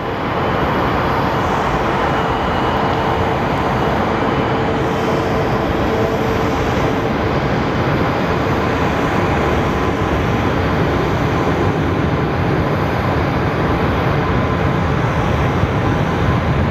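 An Airbus airliner taxiing after landing at Phoenix airport gives a steady, loud engine roar and whine that holds constant throughout, with no talking.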